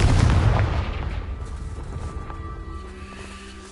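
A Confringo explosion spell cast in the video game Hogwarts Legacy: one loud booming blast that rumbles and slowly fades over a few seconds, heard alone.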